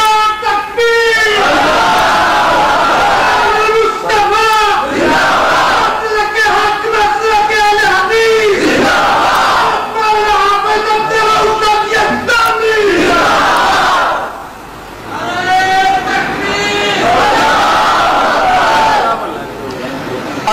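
A large crowd at a religious speech gathering answers the Nara-e-Takbir call with repeated loud rhythmic chanting, voices rising and falling in waves over about twenty seconds, dense and close with brief pauses between bursts.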